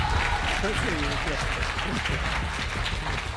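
An audience at a televised Hindi political debate breaks into sustained applause that fills the room, while a voice speaks over the clapping.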